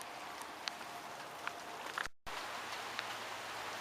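Steady rain falls outside a house after about three hours of downpour, a continuous close hiss with a few brighter drips and taps and a brief dropout midway, no voices.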